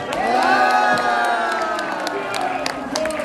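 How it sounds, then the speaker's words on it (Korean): A crowd at a Korean political rally cheers and shouts together in a loud, sustained swell of voices, with scattered applause running through it from start to finish. "박수를 크게 해야지"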